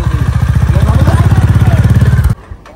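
Royal Enfield Bullet motorcycle, given as a Diwali gift, its engine thumping loud and close in a fast, even, pulsing beat for about two seconds before cutting off abruptly.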